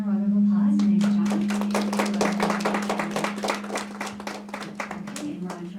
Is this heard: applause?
yes